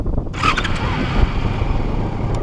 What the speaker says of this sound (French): Démarrez le moteur pour allumer le feu de croisement